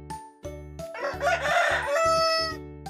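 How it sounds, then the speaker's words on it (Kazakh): A rooster crows loudly and close, a long rising and falling cock-a-doodle-doo call over a rhythmic background of repeated low pulses, with no talking. "Әтеш."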